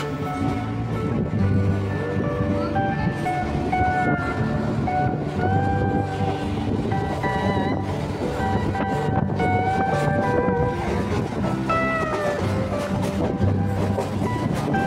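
A local train on the Sealdah–Dankuni line runs steadily after leaving Dakshineswar station, its wheels rumbling and rattling with metallic squeals and wind noise throughout, loud and unbroken.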